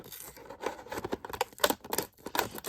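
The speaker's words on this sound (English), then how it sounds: "We like to put a trusty blade into the bottom of the packaging, slide it around, cutting the plastic from the card" A blade slicing plastic blister packaging away from the cardboard backing of a Mattel WWE Superstars Rowdy Roddy Piper wrestling figure, with close, irregular scraping and crinkling cuts.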